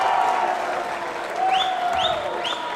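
Spectators at a schoolboys' volleyball match, Tauranga Boys' College against Rangitoto College, clap and cheer loudly in a gym, with rising whoops and whistles over a steady roar of crowd noise.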